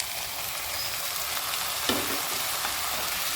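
Tomatoes fry in oil for a tomato curry, making a soft, steady sizzle with a brief stir partway through and no talk.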